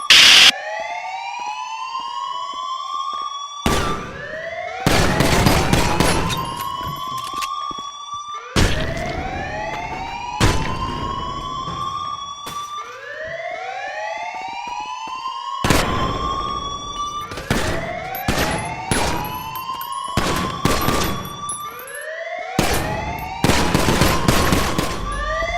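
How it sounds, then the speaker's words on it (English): A building alarm in a video game blares during a lockdown, a loud rising-and-falling siren that repeats in long sweeping cycles, broken up by bursts of sharp gunfire-like noise. "The alarm locked the whole place down"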